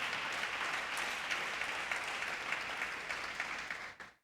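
A church congregation applauds together in a sustained, dense round of clapping that fills the hall evenly for about four seconds, then tapers off quickly.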